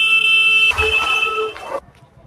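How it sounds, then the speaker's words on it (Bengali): Lorry horn blaring loud and close in a narrow lane, a sustained tonal honk that shifts pitch midway, then cuts off abruptly, leaving quiet background. "যেই দেখছে ভিডিও করছি সেই হট করে হর্ন বানানো শুরু করে দিয়েছে।"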